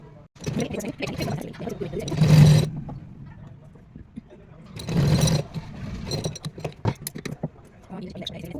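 A sewing machine stitches cloth for a Radha Rani and Laddu Gopal poshak dress in two short, close whirring bursts, with someone talking between and around them.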